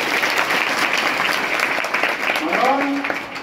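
Loud applause from an audience at a spiritual guidance talk for students, dense steady clapping throughout with a voice briefly rising near the end.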